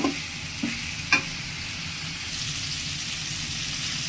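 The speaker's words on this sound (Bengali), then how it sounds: "একটু লাল লাল করে ভেজে নেব।" Eggplant frying in a pan for bhorta, a steady close sizzle with a few light clinks of stirring near the start, no voices.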